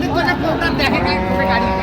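A young bull calf moos in a long, low, drawn-out call, close by and fairly loud, at a cattle market in Dinajpur.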